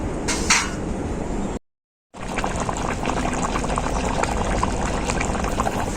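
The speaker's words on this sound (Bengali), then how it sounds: "ঝোলটাকে খুব ভালো করে ফুটিয়ে নেব" Curry gravy for small koi fish boiling hard in a pot, a dense continuous bubbling roar up close, cut by a brief silent gap before resuming just as strongly.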